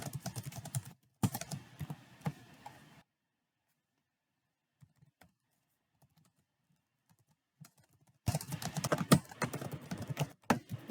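Quick bursts of typing on a computer keyboard while coding a Java CardLayout program, dense clicking in two stretches with a near-silent gap of scattered faint taps between them.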